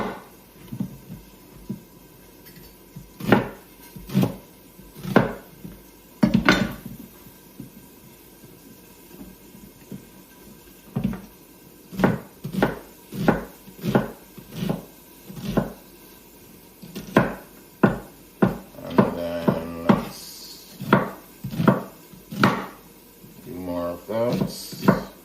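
A knife chops onions on a cutting board in a home kitchen, making a long run of sharp, irregular thuds with quick bursts of rapid strokes toward the end.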